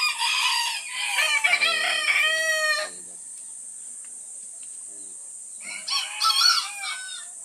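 Bantam micro roosters crow in close, loud bursts of rough, stretched calls, broken by a quiet pause before another round of crowing and clucking returns.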